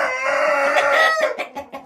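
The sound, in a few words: rooster crowing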